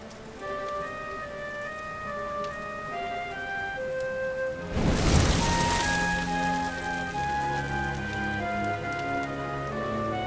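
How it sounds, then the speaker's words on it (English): Rain falls steadily in Dragon Quest XI, a soft continuous hiss layered under sustained musical tones, with a brief louder burst midway that may be a thunder roll. "Looks like the rain's dying down."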